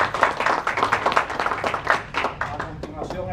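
An audience at a book presentation gives an author a short burst of scattered clapping, uneven and fairly close, under some talk.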